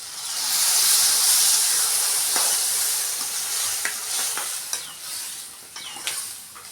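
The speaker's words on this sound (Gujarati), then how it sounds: "દહીં નાખી મિક્સ કરી લઈએ" Curd stirred into roasted okra in a hot pan, with a loud, steady sizzling hiss and a few light spoon scrapes near the end.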